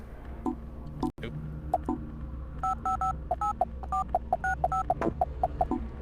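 A telephone number is dialed in the Silent Hill Shattered Memories video game, with a rapid series of short keypad tones, some keys repeated, sounding clearly over a low background hum.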